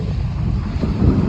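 Strong wind blows outdoors near a small dam and filling reservoir, a loud steady rumbling roar of gusts buffeting the microphone throughout the short moment.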